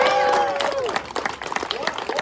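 A speaker's voice at a Libertarian Party campaign event trails off as an audience breaks into scattered clapping and cheering, moderately loud and continuing to the end.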